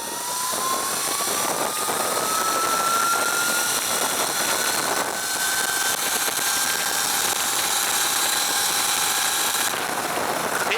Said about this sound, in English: Alright, here we go. Wide open throttle.